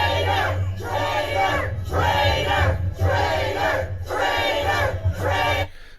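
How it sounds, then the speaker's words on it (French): A large crowd at a rally chants "traitor" in loud, rhythmic bursts, five or so repeated shouts with brief pauses between them, close and forceful. "Alors ils sont en train de scander traitor, ça veut dire traître"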